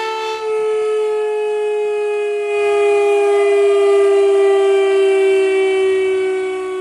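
The Broadmoor civil defense siren wails loud and sustained, a rich harmonic tone that holds steady and then rises slightly in level partway through, alone without voices.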